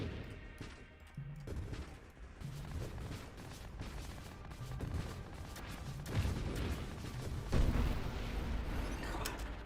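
Grenade blasts in a roguelike video game thud and crackle in rapid bursts, with repeated booming impacts over a busy stream of combat noise that swells toward the end.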